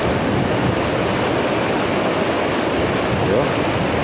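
Rushing river rapids churn in a steady, loud broadband roar, with water crashing continuously and close by, no voices over it.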